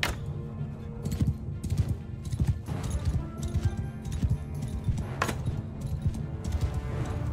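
Galloping horse hooves in Mount & Blade 2: Bannerlord, a quiet, rapid irregular thudding rhythm running throughout with scattered knocks and clashes of battle behind it.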